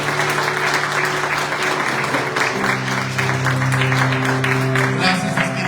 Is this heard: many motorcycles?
no